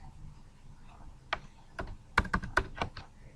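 Fingers type on a computer keyboard in short irregular bursts of crisp, close key clicks, a few louder taps standing out over a quiet room background.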